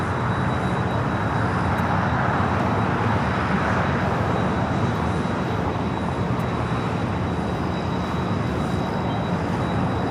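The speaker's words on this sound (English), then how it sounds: "KLM heading for a south side arrival." Steady broadband roar of a KLM airliner arriving at LAX for a south side landing, a continuous loud jet rumble with constant wash and no pauses, no voices.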